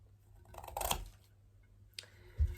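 A variegated Monstera plant stem being cut, a couple of quiet close snips and crunches with a short pause between them, otherwise near silence.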